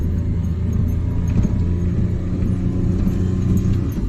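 A minivan engine drones low and strained while climbing a steep uphill stretch of Casile Road, heard from inside as a steady, loud rumble with faint rattles.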